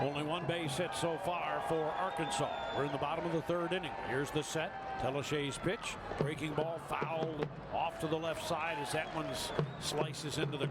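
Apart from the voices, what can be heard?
drum beaten on top of the baseball dugout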